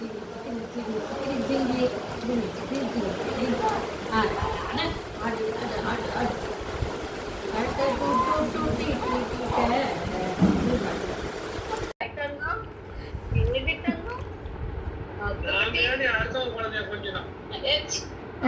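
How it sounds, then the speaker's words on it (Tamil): Heavy rain pouring steadily outdoors as a dense, constant hiss and rush, with people talking over it throughout. "மழை செமத்தியாக பெஞ்சிட்டு இருக்கு"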